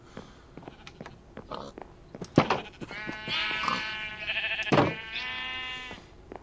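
Sheep bleating in Minecraft, several drawn-out nasal bleats rising and overlapping among short clicks and game noises, fairly close and moderately loud, with no talking.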